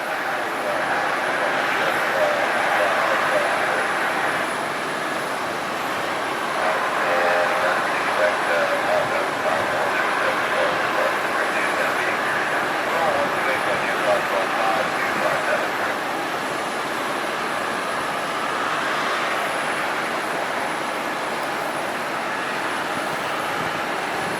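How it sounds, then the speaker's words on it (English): Two American Airlines Boeing 737s depart, their jet engines making a broad, distant roar that rises and falls steadily for over twenty seconds, with some wind and background noise. "So double American 737s heading out."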